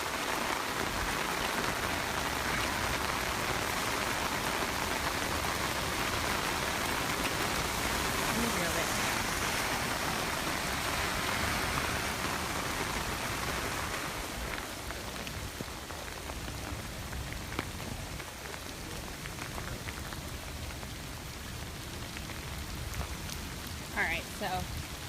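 Steady rain pours down in Mid-City New Orleans a day after major flooding, a dense continuous hiss of drops on surfaces that eases slightly partway through, with faint scattered background sounds.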